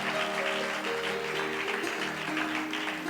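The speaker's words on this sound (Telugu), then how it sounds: "కొట్టాలి చప్పట్లు గట్టిగా." A church congregation at a Good Friday service claps hands loudly together, a dense, steady wash of applause filling the room throughout, with organ or keyboard tones sustained underneath.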